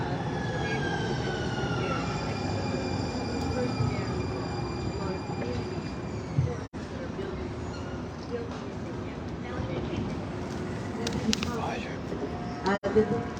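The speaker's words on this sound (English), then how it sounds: "A westbound Green Line train to downtown Minneapolis is arriving on track number" A westbound Green Line light rail train pulls into a downtown Minneapolis-bound platform with a sustained low rumble and faint high tonal whine from the wheels, while a voice speaks over the noise.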